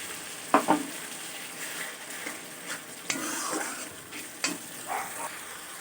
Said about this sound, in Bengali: একটা মাঝারি সাইজের টমেটো পেস্ট করে দিয়ে দিলাম